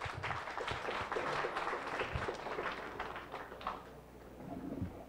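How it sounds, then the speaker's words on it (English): A forum audience gathered to discuss keeping Manila Bay alive applauds a speaker with a moderate round of many clapping hands, quite faint and distant, that tapers off toward the end. "a round of applause for Dr."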